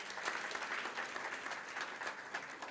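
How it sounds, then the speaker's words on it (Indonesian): A church congregation claps in praise during a service, a brief steady patter of many hands heard from some distance, fairly faint and unbroken. "Tepuk tangan untuk Tuhan kita."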